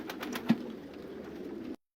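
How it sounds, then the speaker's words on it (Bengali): Pigeons coo steadily at a large pigeon farm, a soft, continuous low murmur of many birds at close range with no talking. "সুন্দরভাবে কবুতরগুলো বসে আছে"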